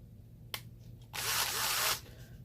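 A Dewalt DW920 powered screwdriver with a tiny motor runs in loosening direction, one close whirring burst of under a second that cuts off abruptly, preceded by a brief click.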